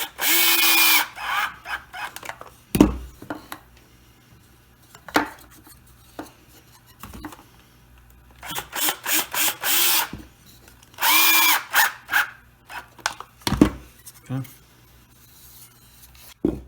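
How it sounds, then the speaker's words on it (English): Power drill driving screws to fix a jig onto the hub of a wooden wagon wheel, with loud short whirring bursts in a few separate runs amid clunks and handling knocks. "we screw this right onto the end of the hub"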